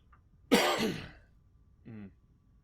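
A man with a cold gives one harsh throat-clearing cough followed by a shorter, softer throat clear, close and alone against a quiet background.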